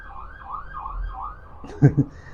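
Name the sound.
passing siren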